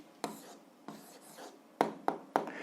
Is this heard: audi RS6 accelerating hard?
no